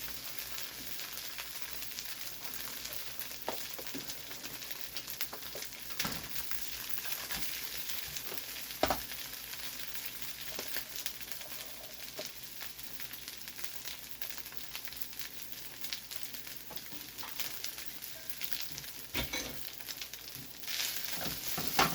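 Rice frying in a pan and being stirred, producing a soft continuous sizzle with occasional faint clicks of a utensil, fairly quiet and steady throughout.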